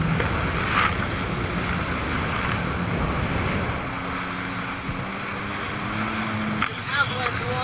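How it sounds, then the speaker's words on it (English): Large ocean waves break near the beach at Mavericks, a continuous heavy roar of surf with wind buffeting the microphone as a watercraft heads in through the break. "We're gonna head in through these waves into the beach now, just to get a sense of how big they are."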